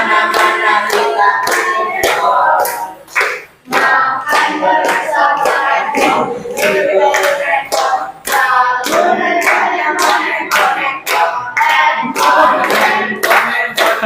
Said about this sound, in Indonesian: Pakai tepuk tangan yang semangat ya.